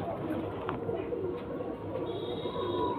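A pigeon coos softly over steady background noise, low murmuring calls repeating through the short stretch, with no voices heard.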